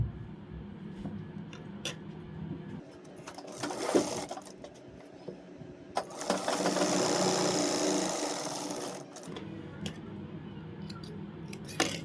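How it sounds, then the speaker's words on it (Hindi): A sewing machine stitches the leg seam of a palazzo: short bursts of rapid mechanical needle clatter, then a sustained run of steady stitching for about three seconds, close and clear. "एक पैर की सिलाई लगाएंगे ऊपर से।"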